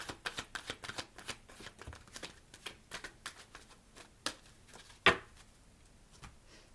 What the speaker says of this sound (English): let me pull a romance card.